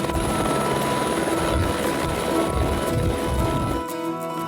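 Helicopter in flight over the Rotorua area of New Zealand, its steady rotor and engine drone loud and continuous throughout, close by with no voices.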